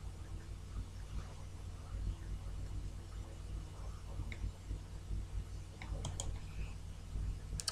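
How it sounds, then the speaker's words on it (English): A computer mouse clicks quietly while lines are drawn in CAD software, with a few sparse, sharp clicks over a faint steady room hum. "click the line,"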